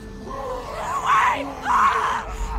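A woman screams in distress in The Walking Dead Telltale video game, two loud, strained wails rising over a steady low background drone, close and prolonged.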